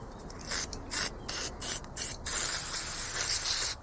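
Solvent sprayed onto a Delphi diesel injector during cleaning in a repair workshop, a close, loud hissing spray in several short bursts followed by a longer steady blast, with no talking.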